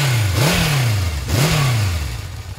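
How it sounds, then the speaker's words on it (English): A 1978 Honda CB750 motorcycle revs twice in quick succession, each blip rising and falling back toward idle, loud and close with a raspy exhaust note. "Listen to the exhaust note on this thing."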